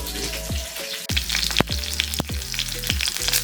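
Close, crackling sizzle of dried thyme, rosemary and onions in a hot frying pan, with sharp spatula taps and stirring knocks punctuating the frying hiss.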